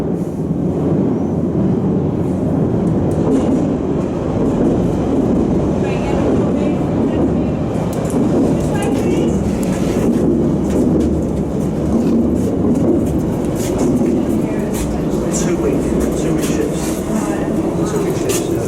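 A London Underground 1973 Stock train rumbles past at close range near disused Down Street station, a loud continuous roar with rattling, clattering wheels, heavy and steady for the full stretch.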